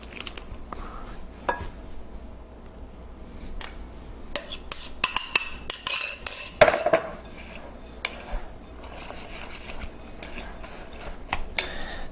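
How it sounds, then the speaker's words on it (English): A dough whisk stirs flour and water into a wet no-knead seeded sourdough mix in a bowl, sharp scraping clinks and knocks in irregular bursts, clustered in the middle and near the end. "And then stir it into the dry mix. With my trusty dough whisk."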